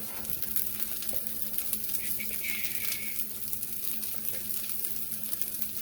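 Eggs for a scrambled egg sandwich frying in a pan, a steady soft sizzle with faint crackles, continuous and close, with no talking.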